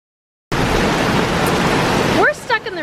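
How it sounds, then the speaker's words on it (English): Steady rain pours as a dense, loud hiss that starts abruptly and holds evenly for a couple of seconds, then a person begins speaking over the fading noise. "We're stuck in the rain."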